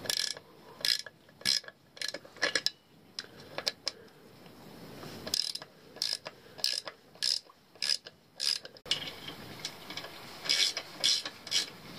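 A ratchet used on a Honda 10hp outboard during an impeller change gives out bursts of sharp, close mechanical clicks in irregular runs, with short pauses between strokes and no talking.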